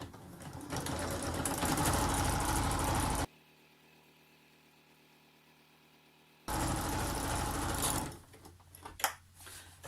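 A sewing machine stitches a wine bottle gift bag made from upholstery fabric, running in a steady close whirr, pausing for a few seconds of near silence, then running again before fabric handling noises.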